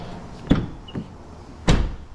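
A rear door on a Dodge Ram 5500 Cummins diesel truck under repair, opened and shut twice: two distinct solid thumps of the latch and panel about a second apart, close and fairly loud, with a faint lighter clunk between them.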